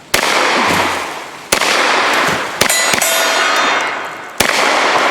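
A Hi Point pistol fires at a 2-liter bottle target, about four or five loud, sharp cracks spaced irregularly over steady, loud background noise.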